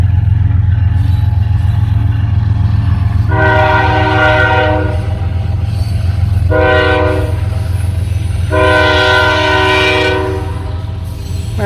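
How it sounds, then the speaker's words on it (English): A train horn blasts three times, long loud blares over the steady low rumble of a train rolling past close by. "I'll just wait for the train to go by"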